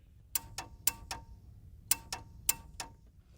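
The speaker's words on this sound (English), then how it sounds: "You should hear those solenoids click." Nitrous system solenoids clicking on ignition: crisp, faint mechanical clicks in small pairs, spaced out over a quiet low hum.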